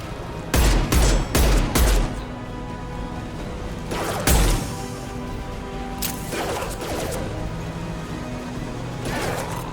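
Heavy gunfire in the shooter Mass Effect 2: loud rapid bursts of shots in quick clusters near the start, another burst midway, then scattered shots over a dense rumbling battle backdrop.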